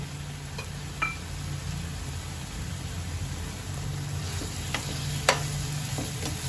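Prawns go into masala paste sizzling in oil for a village-style shrimp curry, giving a steady close sizzle with a few sharp clinks of a spoon or pan.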